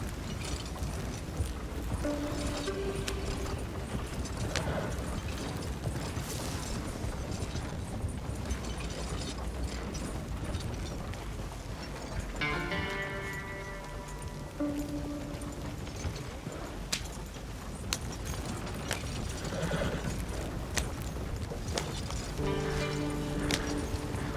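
Horse hooves clip-clopping in the Red Dead Redemption 2 video game, a steady rhythmic trot mixed with rattling tack and mechanical clatter that runs throughout.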